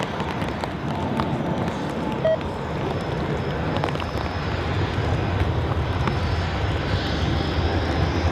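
Airliner jet engines at Zurich Airport roar steadily from the runway, a loud, broad continuous rumble with wind buffeting the microphone throughout.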